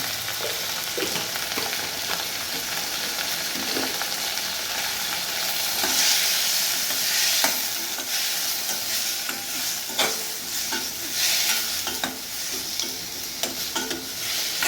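Fish curry ingredients for a paarai fish curry, seasoned with turmeric and chili powder, sautéing in a pan: a continuous bright sizzle with frequent scraping and stirring strokes, close and fairly loud, with no talking.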